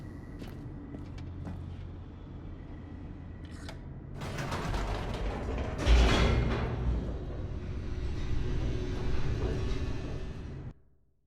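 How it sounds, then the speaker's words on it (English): An elevator in the game The Stanley Parable descends with a steady mechanical rumble, creaks and clanks, swelling louder midway, then cuts off abruptly at the end; no voices. "The elevator raced downward, plummeting towards an unknown fate."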